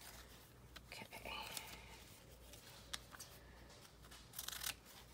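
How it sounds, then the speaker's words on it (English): Scissors snipping through magazine paper for a collage, a few soft crisp cuts and rustles close by, with quiet whispered talk over them. "I'm going to cut this in half again."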